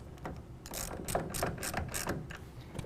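A ratchet tightens a clamp on an UnderCover Armor Flex tonneau cover at a truck bed cap, a close run of quick clicking strokes, about six bursts of pawl ratcheting in under three seconds.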